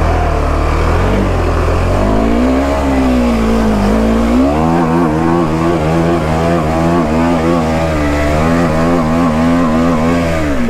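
A motorcycle engine revs steadily and loudly during off-roading in North Bengal, its pitch rising and falling before settling into a sustained, throaty drone close to the microphone.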